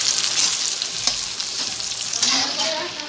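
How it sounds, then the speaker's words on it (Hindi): Chopped tomatoes with spices frying in a pan for a Murga Musallam masala, a steady close sizzle with a few stirring scrapes and no talking. "हम कटा हुआ जो टमाटर है जिसे हम काट के पहले से रखे हुए थे उसको डालेंगे। थोड़ी देर तक इसको फ्राई करेंगे"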